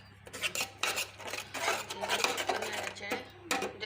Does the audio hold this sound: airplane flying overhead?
no